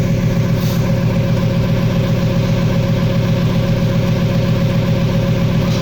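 A restarted car engine idles steadily and close by with a constant low hum, continuous throughout with no talk.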